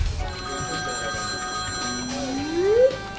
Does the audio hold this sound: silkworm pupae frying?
no